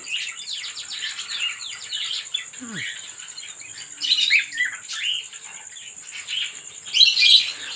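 Red-eye pastel-type cockatiel chicks in a breeding colony chirp and squeak in rapid clustered bursts, fairly close and loud, over a constant high-pitched whine, with a brief low voice sound early on.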